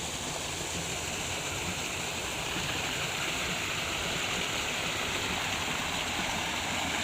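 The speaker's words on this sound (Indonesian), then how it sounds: "Oke, ini debit sungainya." River water rushes steadily at the intake of a linear hydraulic ram pump in Indonesia, a dense, continuous broadband roar with no pauses and no voices.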